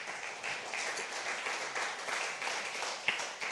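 A church congregation applauds together during a sermon, a steady wash of many hands clapping at moderate distance, continuous and even for several seconds with no voices standing out.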